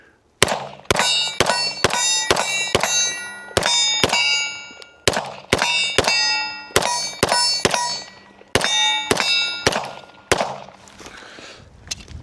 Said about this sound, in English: But right now, we're going to continue to get some rounds downrange.